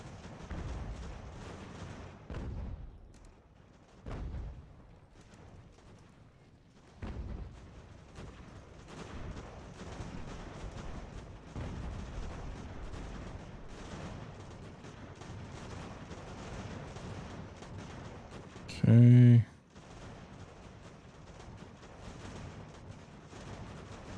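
Distant booms of artillery and crackling musket volleys in the battle game Ultimate General: American Revolution, coming in scattered rumbling bursts under a continuous battlefield din, with one louder sharp hit near the end.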